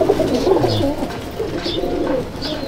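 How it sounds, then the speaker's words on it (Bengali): A male pigeon of Madras type coos in a loft, low rolling cooing phrases repeated close by, with faint higher chirps in the background. "এটা হচ্ছে মেল পায়রা।"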